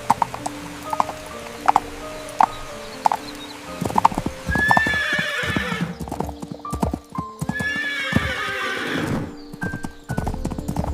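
A horse in a fairytale scene trots with steady, rhythmic clip-clop hoofbeats. Two loud, drawn-out neighs break in over the hooves partway through.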